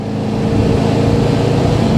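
A Toyota Landcruiser 200 Series twin turbo diesel engine revs hard, a loud, close, rising drone that holds steady over two seconds.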